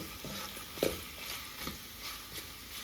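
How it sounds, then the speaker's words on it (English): Chicken curry sizzles steadily in a pan over medium heat while a utensil scrapes and stirs a few times, close and moderately quiet, with no talking. "Make sure you stir your curry, guys, every now and then within that 15 minutes of frying"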